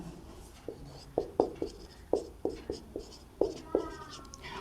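A pen writing a maths function by hand on paper: a run of short, scratchy strokes and light taps in an uneven rhythm, close and quiet over a faint room hiss.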